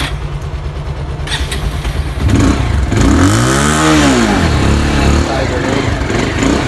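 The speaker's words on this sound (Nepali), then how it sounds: "चलपल हुँदैछ बाइकहरू स्टार्ट हुँदैछ यहाँ" Several motorbikes start up and rev nearby, with a loud engine roar rising from the middle and a sweeping rev pattern, over background noise.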